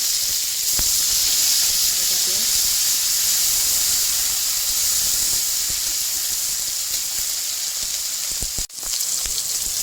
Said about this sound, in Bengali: পেঁয়াজ অল্প একটু পেঁয়াজ তেলের মধ্যে ছেড়ে দিচ্ছি